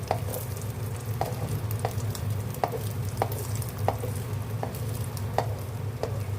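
Egg for a Samyang omelet frying in a pan, a steady close sizzle with soft, regular stirring taps about every half second, no voices.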